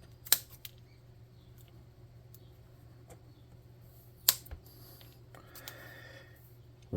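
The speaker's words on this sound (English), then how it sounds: "Let's get a little piece of cardstock and cut a square out" Scissors cut a square out of a small piece of cardstock. Two sharp, isolated snips sound close by, several seconds apart, over a quiet background hum, with no talking.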